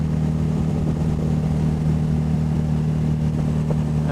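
A steady motorcycle engine drone while riding along rolling, curvy open country roads, constant and close with heavy wind rush, no speech.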